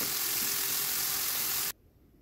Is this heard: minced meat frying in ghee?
yes